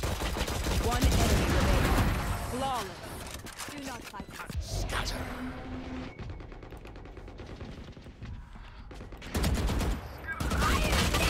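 Automatic gunfire in the Valorant video game rattles in rapid bursts among other game sounds and effects, loud at the start and end with a quieter stretch in between, and a voice speaks briefly over it.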